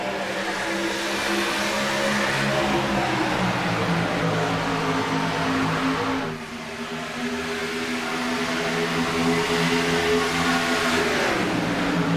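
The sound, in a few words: NASCAR race cars accelerating through the restart zone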